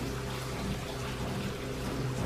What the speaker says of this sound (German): Klingt fast wie ein Wasserfall. Oder mehr wie... Die Waschmaschine!